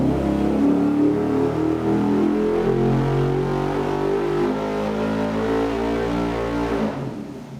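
A Nissan 240 drift car with a swapped 5.3 LS V8, revving hard on a dyno: a loud, sustained engine roar that climbs steadily in pitch over several seconds before easing off at the end.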